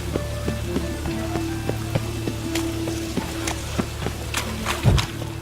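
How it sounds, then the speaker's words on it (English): Rain falling in the video game Witcher 3: Wild Hunt, heard as soft steady patter with scattered drips and taps over a low background hum and one heavier thud near the end. "And it's raining."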